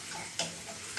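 Ivy gourd fries in a pan with a soft, continuous sizzle, faint and close, with one brief louder scrape midway through the short burst.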